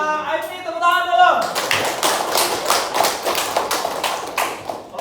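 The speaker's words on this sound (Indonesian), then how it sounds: "Kepada kelompok IP, tepuk tangan dulu." After a brief spoken phrase, a classroom group claps hands together, sharp rhythmic claps in a fairly quick, loosely synchronized pattern that continues steadily to the end.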